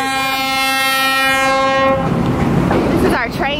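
A loud, sustained train horn blares for about two seconds, then gives way to the rumbling, clattering roar of a train passing close by near Cusco, Peru.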